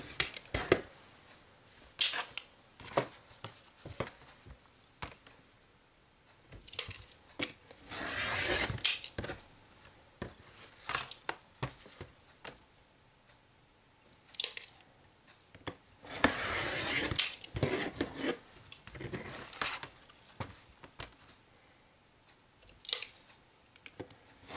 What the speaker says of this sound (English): what works best for me a lot of times is to use the rotary cutter. You can do it by hand, but this is just quicker. So we'll just cut these scraps off.